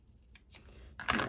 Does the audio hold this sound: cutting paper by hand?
yes